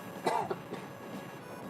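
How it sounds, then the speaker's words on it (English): A single short cough, close and fairly quiet, from a person who has just been drinking tea, followed by a brief softer throat sound and then near silence. "I made myself cough."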